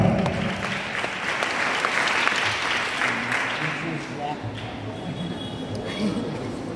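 A church congregation claps loudly and continuously, a dense burst of applause that fades slightly toward the end.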